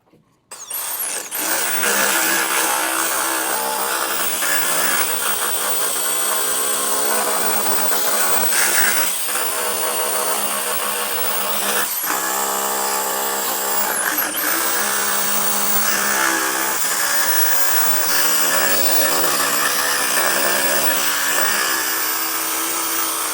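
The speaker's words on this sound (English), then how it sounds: "So let's get to sanding, and as always, safety first" A power sander strips old paint from the hood of a 1953 M38A1 jeep, whirring loud and close in one steady, continuous drone with small shifts in pitch as it works across the metal.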